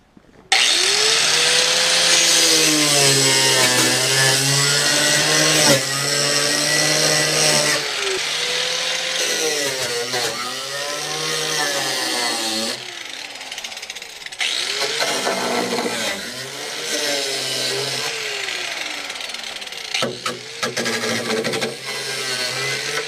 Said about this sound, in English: we're going to make a relief cut right down in here just to give us a little bit more room to play with